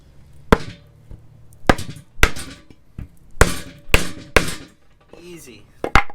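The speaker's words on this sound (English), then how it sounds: "I went ahead and hammered in all the bushings. Got the metal sleeves hammered in as well." Poly bushings and metal sleeves being hammered in on a Nissan S14, with sharp, close, loud individual strikes spaced irregularly about every half second to second.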